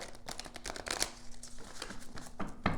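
Playing cards riffle and snap in quick bursts, close by, with soft handling noises between shuffles.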